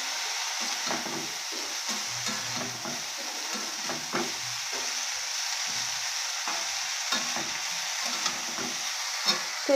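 Cabbage sizzling in hot oil with tomato and spices in a pan, a constant frying crackle broken by repeated scrapes and clacks of a spoon stirring, close and without talk.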